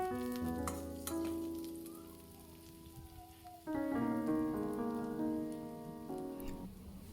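Beetroot pieces fry and sizzle in a pan for a Kerala-style beetroot pickle, a soft steady crackle sitting beneath louder tonal background music that swells again midway.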